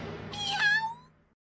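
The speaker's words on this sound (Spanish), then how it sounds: "El veterinario dice que hay que cuidemos al pequeño gatito perdido, Gaga." A small lost kitten gives a single clear meow, rising and then trailing off over about a second, close and fairly quiet against a soft low hum.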